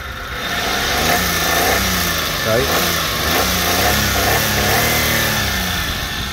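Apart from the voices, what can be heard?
Daewoo Matiz 0.8 three-cylinder engine idling and revving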